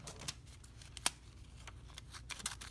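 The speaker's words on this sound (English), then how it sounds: "Snip off the part I don't need." Scissors trimming extra paper from a packing-tape image transfer, several quiet, close snips spaced irregularly, one sharper cut standing out midway.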